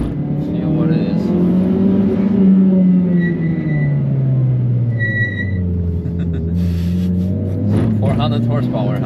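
Engine of a big-turbo Mitsubishi Colt R making around 400 horsepower with a smoked clutch at the Nürburgring, a steady loud drone whose pitch rises and falls with the revs while people talk over it.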